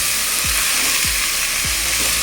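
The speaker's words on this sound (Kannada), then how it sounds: "ಈಗ ಇದಕ್ಕೆ ಕಾಳು ಹಾಕ್ತಾಯಿದ್ದೀನಿ. ಇದು ಹಸಿ ವಾಸನೆ ಹೋಗೋ ತನಕ ಒಂದು ಸ್ವಲ್ಪ ಒಗ್ಗರಣೆನಲ್ಲಿ ಬೇಯಲಿ." Sprouted legumes frying in hot oil tempering for a sprouts curry, a steady loud sizzle throughout with three soft low stirring scrapes spaced about half a second apart; no one talks.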